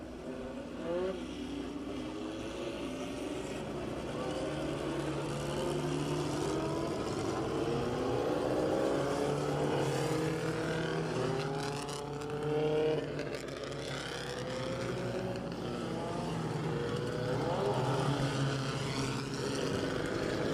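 A field of Pure Stock 4-cylinder race cars roars around the County Line Raceway oval during a heat race, engines droning and rising and falling as cars pass, continuous and fairly loud with no talk.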